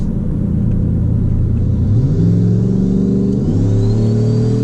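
A car engine fitted with a big aftermarket turbo drones loudly and then revs up, its pitch climbing in steps as boost builds, close and continuous with no talking.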